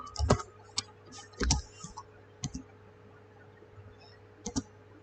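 Sparse keystrokes on a computer keyboard, a few isolated close clicks spread across quiet seconds with a faint steady hum behind.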